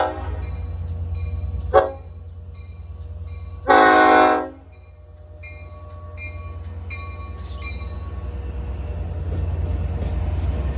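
LIRR DE30AC locomotive #413 with a K5LLA horn, heard from aboard a train running Babylon to Speonk; a short blast and then a longer loud blast ring out over the steady low rumble of the moving train.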